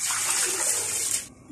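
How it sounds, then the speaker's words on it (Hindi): Water and soaked black masoor lentils are poured from a jug into a pressure cooker, a steady gushing pour that stops abruptly near the end. "अब हम इसी जग में भर के पानी के साथ प्रेशर कुकर में डाल देंगे।"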